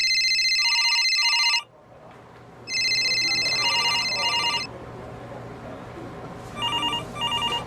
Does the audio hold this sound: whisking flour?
no